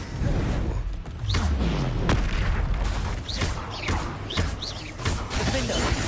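Explosive spells boom through a Hogwarts Legacy fight, a string of heavy thuds and blasts over constant rumbling battle noise with whooshing effects.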